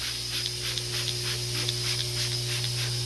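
Repeated short hissing sprays of cleaning product onto furniture to treat yellow discoloration, several quick spritzes in a row over a steady electrical hum, close and fairly loud.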